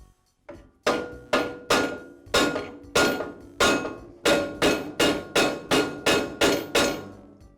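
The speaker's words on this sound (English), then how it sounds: "I'll use my rubber mallet to tap the arbor into that second bearing" A rubber mallet tapping the blade arbor shaft of an MK Diamond tile saw into its second bearing: about fourteen sharp, close knocks. The first few are spaced out, then they come faster and evenly, each with a short ringing decay.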